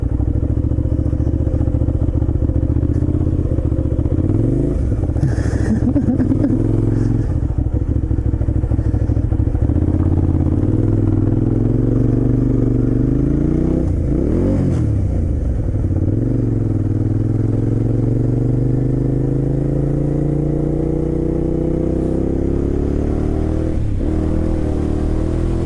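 A newly bought motorcycle runs loud and close, its steady engine rumble rising and falling through several revs, with some clatter and no talking.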